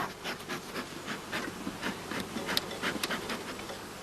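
Honeybees buzz steadily around a hive being fed solid granulated blossom honey, a close, continuous droning hum with no voices.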